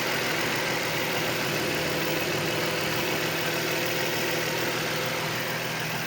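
Idling V6 of a Nissan 350Z with a knock or strange noise in the engine bay, a steady close-up mechanical hum and rattle holding evenly throughout with no pauses.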